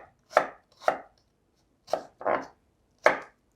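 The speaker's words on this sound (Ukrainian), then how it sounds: "коли ріжеш цибульку" A knife cuts through an onion with five distinct, close chops spaced irregularly, each a crisp thud against a board, with silence in between and no talk.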